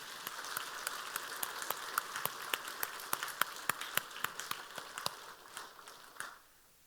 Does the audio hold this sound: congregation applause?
yes